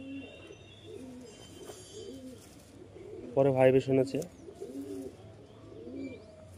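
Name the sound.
pigeons cooing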